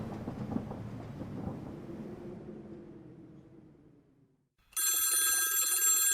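A telephone starts ringing with a bright electronic trill after a fading musical passage and a moment of near silence.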